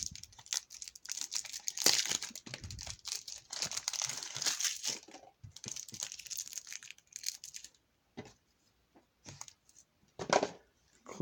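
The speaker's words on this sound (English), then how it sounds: "I think there's supposed to be like a pull film here so that you can just rip it off." Plastic pull film is torn and crumpled off an Order of the Spellcasters Yu-Gi-Oh structure deck box, giving soft, close crinkling bursts in irregular spurts with short quiet gaps.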